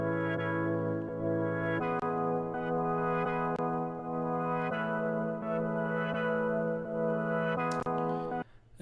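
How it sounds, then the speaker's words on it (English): Sustained synth opening a music track, layered with steady harmonic tones and a slow LFO-style pulsing swell, loud and continuous for about eight seconds before cutting off near the end. "This track starts with a synth, which sounds like this."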